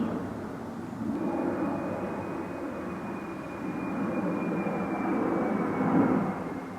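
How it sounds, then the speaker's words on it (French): An airplane passes overhead as a steady, broad, distant roar that swells slowly and peaks near the end, with no talk over it. "Je sais pas si vous entendez, mais il y a un avion."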